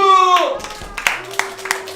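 Children at a Sunday school service clap briefly in scattered, uneven bursts after a fading tone, with a voice and speech heard over the clapping.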